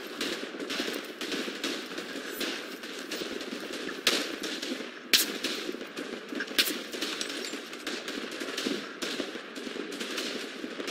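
Automatic gunfire in the World War I shooter game Tannenberg, fought on a Ukrainian map: a dense, continuous rattle of distant and mid-range bursts over a steady battle din, with a few sharper nearby cracks standing out.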